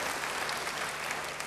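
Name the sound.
congregation applause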